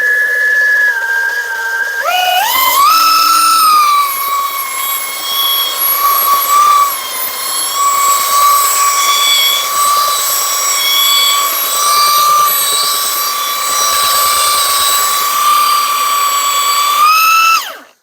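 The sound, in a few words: belt sander running on wood, Milwaukee M18 or Kobalt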